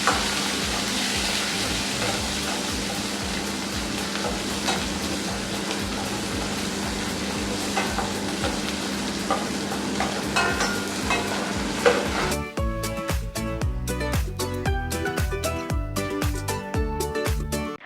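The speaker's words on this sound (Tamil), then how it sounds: "அப்புறம் வெங்காயம் சேர்த்து கோல்டன் கலர் வர வரைக்கும் வதக்கிக்கோங்க." Onions sauté in an oiled pan with a dense, steady sizzle and stirring scrapes for about twelve seconds, then the frying thins into sparser crackles and pops, heard close with no talking.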